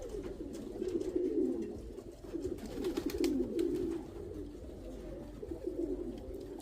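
Pigeons coo repeatedly in low, throaty phrases, close by and fairly steady, with no talking.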